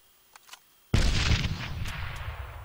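A grenade explosion in a military shooter game bursts in as one sudden loud blast after a brief quiet lead-in of faint clicks, then rolls into a long, decaying rumble with scattered debris-like crackles.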